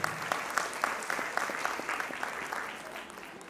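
Audience applause welcoming guests at a school annual function, fairly faint and distant, an even patter of many hands clapping that gradually tapers off.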